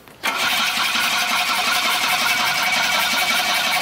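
A DeLorean DMC-12 under restoration cranks briefly and catches, then settles into a loud, steady idle that runs to the end, with no talk.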